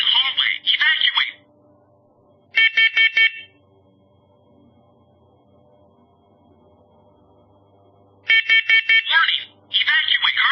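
A First Alert Onelink smoke and carbon monoxide detector sounds loud, sharp electronic beeps in quick groups, separated by a few seconds of near silence, with bursts of the unit's own spoken warnings at the start and end.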